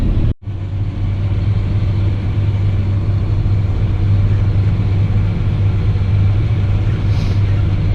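Heard from inside the cab of a Fendt 1050 tractor setting out to plough headlands with a Kverneland RW100 plough, the engine holds a loud, steady low drone throughout after a brief dip at the start.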